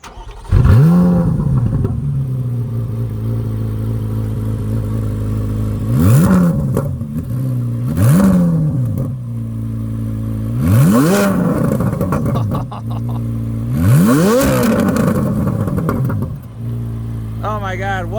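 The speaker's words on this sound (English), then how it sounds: "give it a few revs, and hear what it sounds like, because obviously everyone definitely likes the flat plane crank engine." Chevrolet C8 Corvette Z06 with flat-plane-crank engine and Z07 carbon fiber package, revved in tour mode: a steady loud idle broken by four or five sharp rising-and-falling revs, up close.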